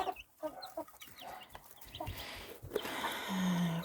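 Young chicks clucking and cheeping as they peck at compound feed, a busy scatter of short calls and soft pecking taps close by, with no talk.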